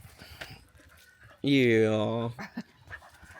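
A dog lying down and being petted indoors lets out one loud drawn-out whimpering whine in the middle, with quieter breathy sounds around it and a person speaking briefly.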